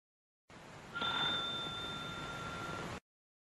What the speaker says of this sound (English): Doorbell ringing.